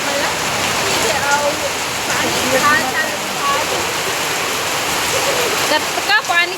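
Heavy rain, the first downpour of 2026, pours steadily in a dense, loud hiss with splashing and dripping throughout, while birds chirp faintly in the background and a brief clatter sounds near the end.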